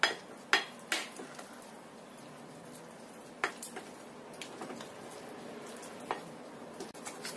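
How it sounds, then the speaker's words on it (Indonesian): Cheese, margarine and butter are stirred together with a spatula in a bowl: a few sharp clinks and scrapes at the start, then sparser soft knocks against the bowl with no talking. "Aduk sampai semuanya tercampur, keju dan juga"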